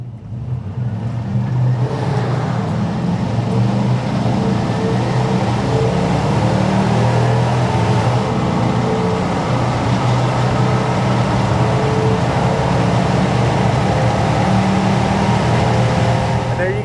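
A 2000 Chevrolet K2500 4x4 pickup with a Vortec 5.7 V8 and automatic transmission cruises on an open road, its steady low engine drone and road noise constant throughout, with someone talking over it.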